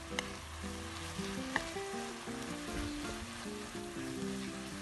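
Steady sizzling of minced beef with cumin and oregano frying in a hot pan, with a few soft scraping stirs and occasional pops, close up and continuous.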